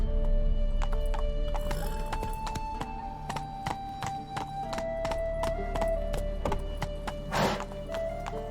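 Roach the horse galloping in The Witcher 3, steady clip-clopping hoofbeats with a whinny, over quiet ambient game music and a sharp burst of noise near the end.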